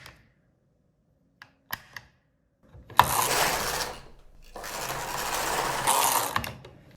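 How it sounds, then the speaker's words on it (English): Two long, loud mechanical sweeps as the carriage of a Knittax knitting machine is pushed across the needle bed, a rushing clatter each lasting over a second, preceded by a few soft clicks and knocks in near silence. "Lay in the white yarn and take the carriage across."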